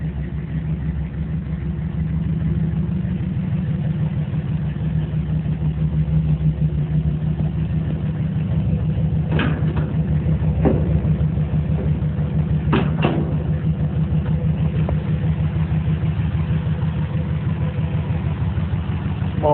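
A stock 1971 GMC Sierra 2500HD pickup's rebuilt 5.7L small-block 350 V8, fitted with a Holley 700 carburetor, Edelbrock intake, shorty headers and custom exhaust, idles steadily with a deep, even rumble and a few faint clicks.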